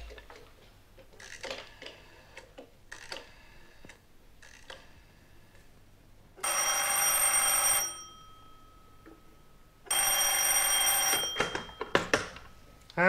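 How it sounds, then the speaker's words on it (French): An old-style telephone bell in an animated Tintin adventure rings in two long, loud, buzzing bursts, each lasting over a second, after softer clicks and knocks, with no speech during the rings. "Tenez, téléphonez à Max Charlet pendant que je cherche le numéro du professeur Cantoneau"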